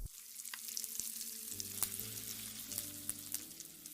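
Popping candy crackles in slime with a dense, fizzy, continuous popping close up. Faint low sustained tones hum underneath.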